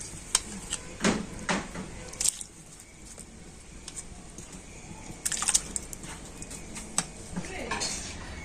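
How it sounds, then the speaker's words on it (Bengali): Rice tipped into water in a cooking pot makes close clinks and short pattering splashes in two separate bursts, with quieter stretches of faint kitchen noise in between. "এখন আমি চালটা জলের মধ্যে দিয়ে দিচ্ছি"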